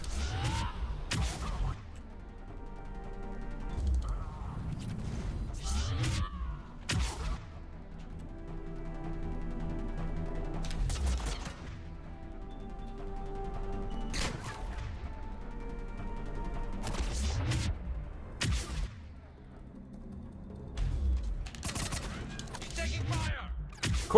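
Bursts of gunfire from the video game Mass Effect 3, on Insanity difficulty: sharp volleys and clustered shots recur in spurts across the span, with brief voices and quieter gaps between the bursts.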